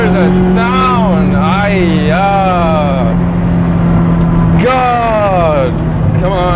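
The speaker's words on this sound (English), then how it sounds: "This is why I love Ferraris. Just hear that sound." Ferrari F430 with an iPE exhaust revving hard, loud rising and falling engine wails in repeated surges, close by, with a steady underlying drone between the pulls.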